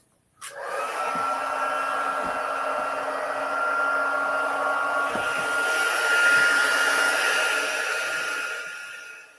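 A handheld heat embossing tool for card crafting switches on with a click and blows hot air in a steady, close whirring rush that holds for about nine seconds before cutting off.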